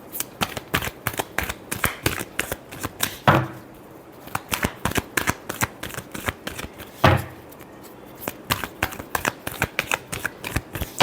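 Tarot cards shuffle in repeated rapid riffles, crisp papery flutters close to the microphone with two longer bridging cascades, no voices.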